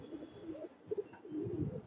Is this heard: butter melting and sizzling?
no